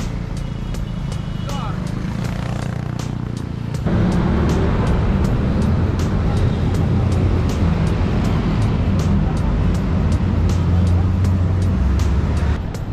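Dense street traffic in Jakarta, cars and trucks rumbling steadily and close by, the noise thickening after a few seconds into a continuous roadway roar with a voice speaking over it.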